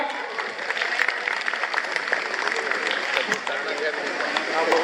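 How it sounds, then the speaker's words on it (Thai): Applause from an audience at a Thai Isan stage show, a dense, sustained patter of clapping mixed with crowd noise and some voices throughout. "ปรบมือดังๆอีกครั้งหนึ่ง"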